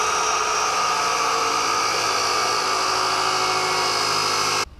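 An angle grinder cuts a steel roll cage tube for a Datsun 280Z, a loud continuous high-pitched whine held steady at close range, stopping abruptly at the end, with no talk.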